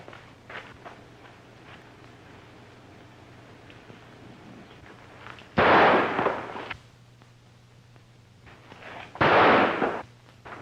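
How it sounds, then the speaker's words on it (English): Two sharp gunshots ring out in a western film, each a loud, abrupt crack with a brief decaying tail, a few seconds apart over a quiet, low background hum. "you think that shot was meant for me?"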